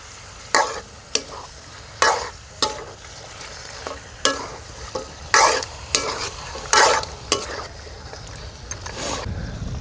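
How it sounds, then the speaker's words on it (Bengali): Mutton for korma frying in a pan, a steady low sizzle broken by repeated sharp scrapes and clatters of a spoon stirring the meat, close and fairly loud, no talking. "মাটনটাকে চেষ্টা করবেন পর্যাপ্ত সময় পরিমাণে একটু ভেজে নিতে"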